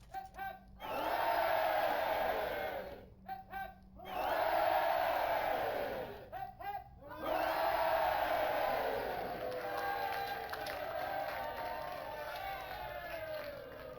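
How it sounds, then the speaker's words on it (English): A video game crowd in Baldur's Gate: Siege of Dragonspear roars three rounds of loud cheers with whoops and yells, separated by short pauses, and the last cheer fades into a sustained crowd murmur. "I like the little audio they do with the cheering and whatnot."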